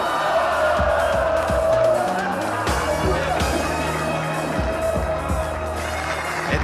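A studio audience at a French telepathy show cheers and applauds for the performers Edouard and Sarah, a loud crowd roar with whoops over rhythmic music that fades slightly toward the end.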